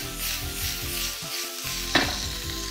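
Sliced mushrooms and carrots fry in oil in a pan, giving a continuous close sizzle with stirring, broken by a short pause and a single sharp clink.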